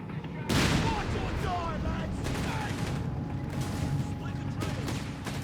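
A howitzer artillery volley in Company of Heroes 3 sends out a heavy burst of booming blasts and crackling fire that fades into a rumbling battlefield din, with a commentator talking over it.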